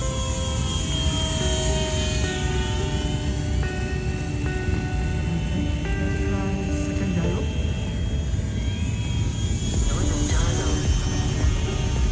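A small Eachine mini P-47 RC warbird plane flies with a steady buzzing motor whine that rises and falls slightly, heard continuously under outdoor wind noise.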